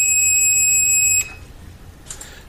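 A GAUTO 2010A automotive multichannel tester sounds a steady, loud, high-pitched electronic beep for about a second, then cuts off, followed by a faint short chirp.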